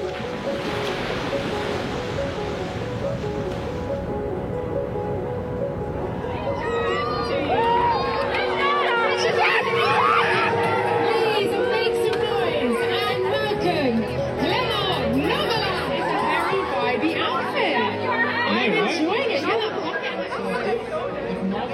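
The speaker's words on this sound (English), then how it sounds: "Have you seen this crowd?" A large crowd of fans at a Zandvoort race event fills the air with dense, continuous chatter and cheering. Closer voices talk over the broad roar throughout.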